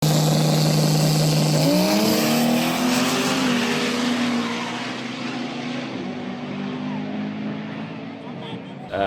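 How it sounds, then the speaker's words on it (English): A truck's engine roars loud and close through a drag racing pass, holding a steady low drone, climbing in pitch as it accelerates, then easing into a lower, quieter run toward the end. "we'll insert the clip from the last pass that we made with the truck"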